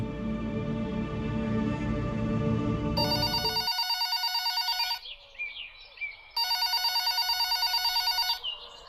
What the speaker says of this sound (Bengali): দুপুরের দিকেই হঠাৎ সেই ফোনটা বেজে উঠল।